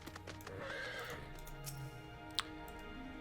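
A horse whinnies in Final Fantasy 14, a bright neigh over soft hoofbeats and background game music, followed by a sharp brief click.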